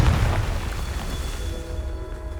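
A Confringo blasting spell explosion in Hogwarts Legacy gameplay, a single deep boom at the start that decays into a rumbling tail, fairly loud and close.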